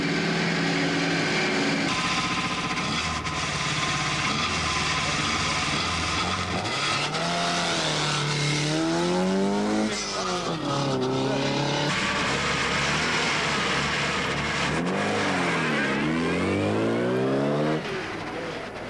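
An ATC three-wheeler racing in the Dakar rally roars past with its light engine straining, rising and falling in pitch as it passes close by, loud and continuous with no talk.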